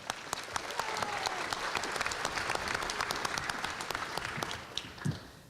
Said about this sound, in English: I would like for you to give yourselves a very warm round of applause.